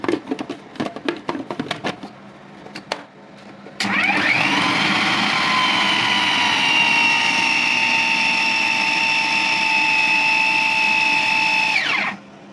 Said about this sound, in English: transferring it to the all-in-one food processor